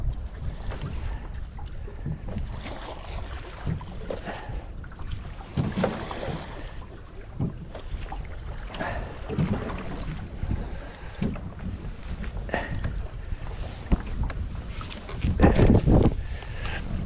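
Waves slap against a small fishing boat on open water on Lake Kitkajärvi, with wind buffeting the microphone and one bigger wave splashing louder near the end.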